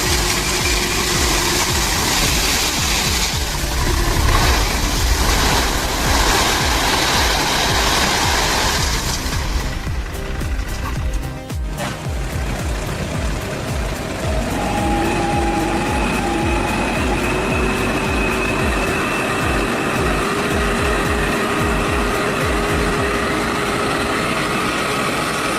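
A huge off-road pickup truck churns along a muddy road, its engine roaring loud and continuous; the texture shifts partway through to a rougher, grinding drone with spinning wheels, and no talking is heard.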